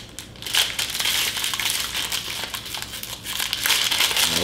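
A white plastic wrapper around a Sour Patch Kids popsicle crinkles and crackles as it is torn open, close and fairly loud, with bursts of rustling that come and go over a few seconds.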